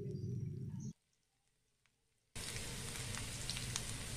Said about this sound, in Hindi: इस घर में ना तड़का लग रहा है या